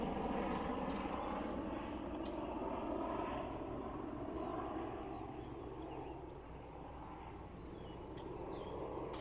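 A helicopter flies over rural power lines, its rotor and engine a continuous throbbing drone that stays fairly distant and faint, easing slightly lower midway, with birds calling faintly outdoors.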